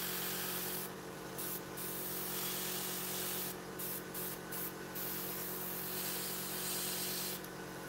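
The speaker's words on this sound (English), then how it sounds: "I will be airbrushing the other end of the canopy." Airbrush spraying paint onto the canopy of a 1/48 scale Eduard Tempest model kit, several short hissing bursts of spray over a steady faint compressor hum close by.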